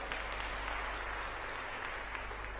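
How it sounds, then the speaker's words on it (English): A summit audience breaks into continuous applause, a dense, even wash of clapping that fills the whole moment at moderate distance with no break or speech over it. "Can we give that a round of applause?"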